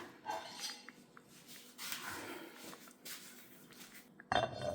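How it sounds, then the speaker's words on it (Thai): Metal clinks and scrapes from kitchen pots and cutlery lead to a cooking pot's lid being set in place, ending in a sharp, louder clatter near the end of a quiet kitchen scene. "ปิดฝา"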